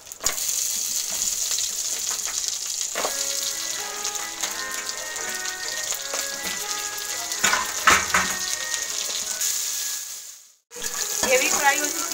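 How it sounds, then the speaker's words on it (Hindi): Crab legs fry in oil for a Bengali-style crab curry, giving a continuous crackling sizzle with occasional stirring clinks and bubbling bursts. A brief silent gap breaks the frying near the end before it resumes. "ये बाकी के जो इसके हाथ पैर है इसे भी हम इसी में फ्राई कर लेते हैं।"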